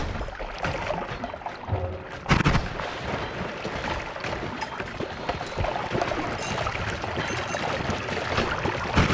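Gunfire in the game Noita, a dense, loud, continuous barrage of crackling blasts with a few harder bursts, noisy throughout and without talk.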